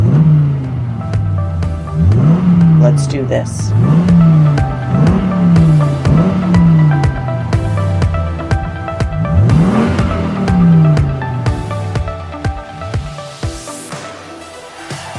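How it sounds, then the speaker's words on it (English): Race car engines rev repeatedly in loud rising sweeps, about every second and a half, with tire squeal and skidding mixed in, while a voice speaks briefly over the roar. "Start your engines."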